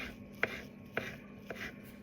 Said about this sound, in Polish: w międzyczasie pokrój sobie paluszki krabowe